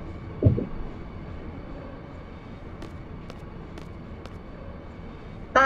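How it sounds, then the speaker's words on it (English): Steady low rumble of a train travelling in Final Fantasy VIII, a continuous rolling drone with faint clacks, heard alone without talk. "Train, train, take us away, far away."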